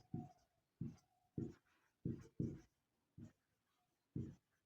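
Handwriting strokes during a maths lesson, about eight short scratchy pen strokes spaced irregularly with silent gaps between them, close and fairly quiet.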